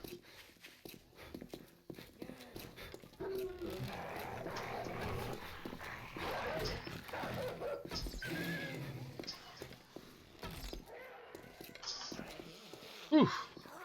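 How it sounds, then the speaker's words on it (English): Dogs barking and yipping in the zombie survival video game 7 Days to Die, a busy continuous mix of animal noise and game sounds with a sharp louder hit near the end, while someone talks over it. "Goddamn dogs."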